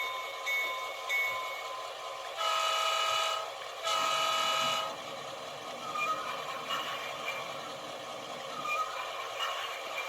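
A GP38-2 model diesel locomotive in CN livery, number 4713, runs with onboard sound, giving a steady low electronic engine drone with a couple of brief, loud horn-like tones near the start.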